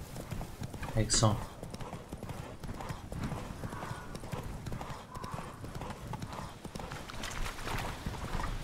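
Horse hooves galloping in The Witcher 3: Wild Hunt, Blood and Wine, a steady rhythmic clip-clop under game music and ambience, with someone talking over it and a short voiced burst near the start.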